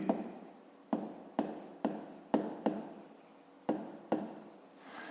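Chalk or pen writing by hand during a fifth-grade maths lesson: a series of about nine short scratchy strokes in quick irregular bursts, close and fairly quiet, with no talk over them.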